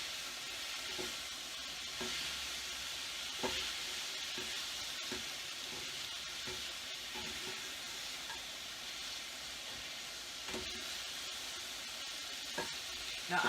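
Vegetables sizzle and cook down in a crowded frying pan for chicken tacos, with a steady close hiss and crackle and occasional stirring clicks and scrapes, no talk.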